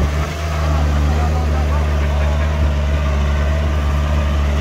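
VST Shakti 927 4WD tractor pulling a five-tine cultivator through a sugarcane field, its diesel engine a steady, loud low drone with a constant hum for the whole stretch.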